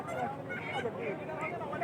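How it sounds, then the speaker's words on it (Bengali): Ducks and chickens crowd a busy poultry market, their honking quacks and clucks close and overlapping in a constant din with voices mixed in. "হাঁস মুরগির কোনো শেষ নাই"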